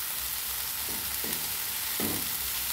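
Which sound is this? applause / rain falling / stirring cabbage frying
stirring cabbage frying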